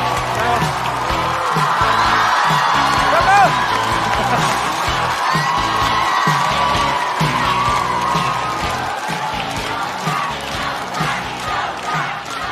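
A stand-up comedy show audience cheering and whooping as a comedian is welcomed onto the stage, a loud sustained roar of crowd shouts and excited voices filling the room, with applause mixed in beneath.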